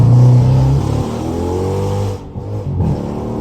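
Dodge Charger Scat Pack engine revving loud and close while driving, a strong throaty rumble that eases off and dips briefly as if between shifts before pulling again.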